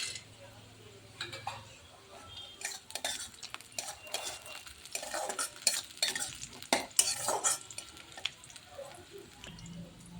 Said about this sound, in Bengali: পেঁয়াজটা হালকা লাল করে ভাজা হয়ে গেছে, এবার এর মধ্যে দেব কিছুটা ভাজা বাদাম